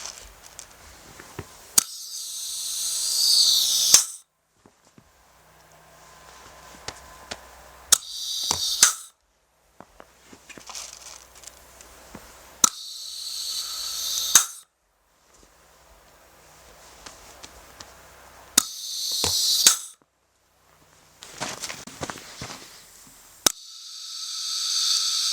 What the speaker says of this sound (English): Put it in the hole and kind of hold some pressure down on it. Pull the trigger, and you got a stud in there.